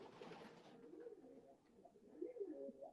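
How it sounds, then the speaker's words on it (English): Young racing pigeons about two weeks old coo in a loft, a run of soft, low throaty calls that swell louder toward the end, close by with no talk. "them little baby pigeons over there. They like 2 weeks."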